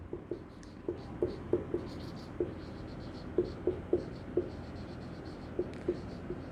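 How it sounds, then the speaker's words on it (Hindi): A marker or chalk writes on a board in a quiet room, making short, irregular strokes and taps in a loose rhythm, faint and close, with a high insect-like chirping in the background. "तो इसको लिख लेते हैं"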